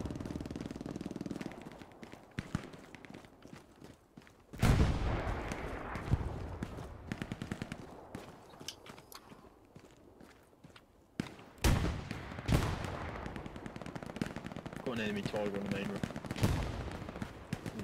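Gunfire and incoming grenades in Hell Let Loose, with rapid rifle and machine-gun bursts and several sharp, loud blasts, some near and some distant, under ongoing battle noise.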